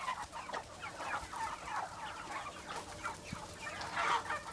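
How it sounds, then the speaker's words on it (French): Chickens cluck on a poultry farm that also keeps turkeys, ducks and geese, many overlapping calls in a steady busy chorus at moderate distance. "il élève des poulets, des dindes, des canards et des oies"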